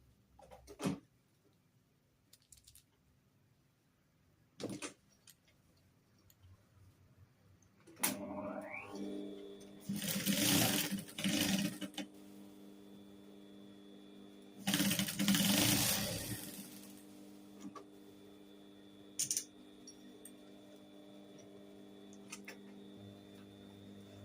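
A domestic sewing machine stitches dress fabric in short bursts, each running a second or two, separated by quieter pauses with faint clicks and handling sounds; no one speaks.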